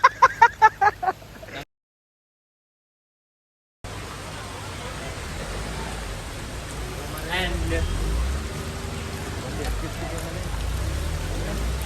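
Rain falls steadily near a temple, a soft even hiss that swells slightly later, after a brief burst of voices and a short gap of silence.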